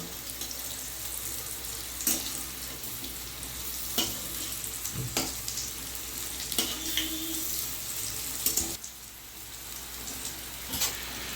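Dhoka lentil cakes fry in hot white oil in a wok, giving a steady dense sizzle with sharper crackling bursts every couple of seconds, with no voices over it.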